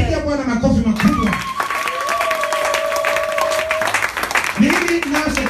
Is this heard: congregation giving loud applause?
yes